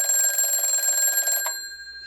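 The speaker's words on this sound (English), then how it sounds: "Answer the phone." A telephone rings with a bright electronic trill lasting about a second and a half, then cuts off, leaving a quiet room.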